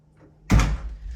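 A single heavy door thunk lands abruptly about halfway through, loud and close inside a home, followed by a short low rumble as it settles.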